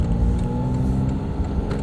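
A Porsche 718 Spyder RS sports car's engine gives a steady, loud, close mid-pitched drone with no clear revving, heard alone.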